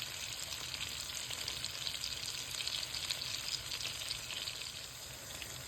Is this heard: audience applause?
no